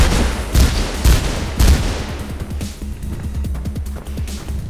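Gunfire in the first-person parkour game Mirror's Edge: a rapid volley of loud cracking shots at the start, then a lighter stutter of quicker pops trailing off, with no voices.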